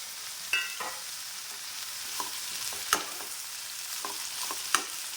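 Shallots and halved green chillies fry in a pan with a steady sizzle, punctuated by a few sharp clatters of stirring.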